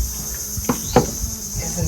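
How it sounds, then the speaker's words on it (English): Crickets chirp steadily in a constant high trill near a mangrove lagoon in El Nido, Palawan, Philippines, with a couple of brief louder clicks or taps nearby. "Hear the crickets?"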